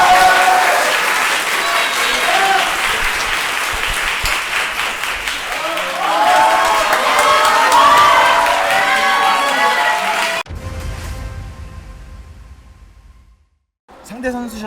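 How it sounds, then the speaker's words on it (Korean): A large crowd at a boxing event applauds loudly for about ten seconds with scattered cheers and voices mixed in, then the clapping cuts off to near quiet. "박수 한번 주세요"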